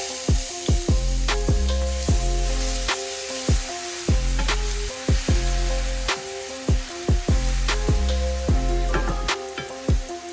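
Garlic hits bubbling caramelized sugar in a pan and gives a continuous bright sizzle, heard beneath rhythmic background music with regular percussive beats.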